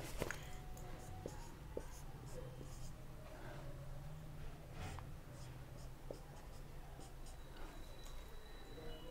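Writing out a chemistry example on a board: faint scratchy strokes and small taps over a low steady hum, with soft background voice sounds now and then.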